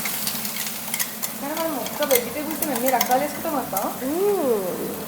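A spoon stirs okra coated in onion-garlic paste in a hot pan for an okra masala, with a steady close sizzle and scraping stirring strokes that run throughout, and no talk in the gaps.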